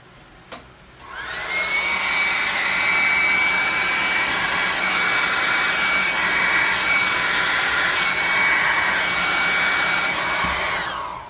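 A blower or hair dryer spins up and runs loud and steady, drying fresh paint on a tabletop-game model building with a pipe, a sustained rushing whine close to the source before winding down near the end.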